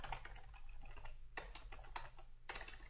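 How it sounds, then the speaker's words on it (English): Computer keyboard typing into a field in a C# Windows app, a steady patter of close key clicks with a few sharper bursts of louder keystrokes, no voice. "I can type as many URLs as I like in here"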